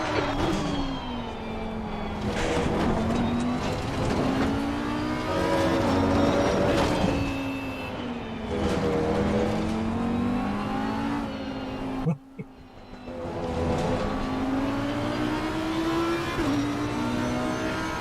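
GT3 race cars in the Assetto Corsa Competizione video game at Hungaroring roar loudly, their engines rising and falling through gear changes with one sharp break near the end, and a voice talking faintly underneath.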